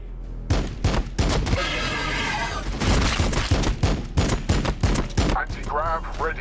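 Gunfire in Warhammer 40,000 Battlesector: dense, loud volleys of shots in irregular rapid bursts, layered over battle noise with brief unit voice callouts.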